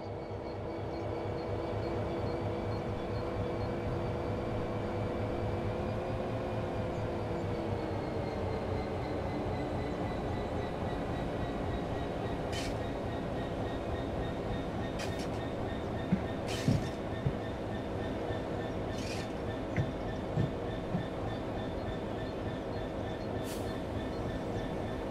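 A train in the Train Sim World game rolls along after its brakes release, a steady low rumble and hum with faint rail clicks and a few sharp squeaks and clanks near the end, with no talking.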